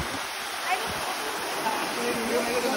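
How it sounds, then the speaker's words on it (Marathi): A small waterfall at Marleshwar temple in the Konkan hills rushes in a continuous broadband wash of falling water, close and steady with a few brief splashes. "आपल्याला इथे एक मिनी वॉटरफॉल भेटलेला आहे."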